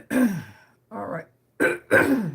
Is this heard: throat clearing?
yes